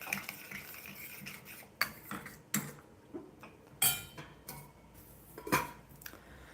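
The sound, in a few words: stirring tomatoes in a cooking pan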